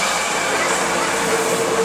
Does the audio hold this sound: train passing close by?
yes